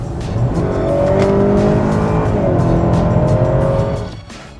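A 2020 Honda Accord sedan accelerates hard, its engine note rising loud and steady for about four seconds before easing off, with faint tire noise underneath.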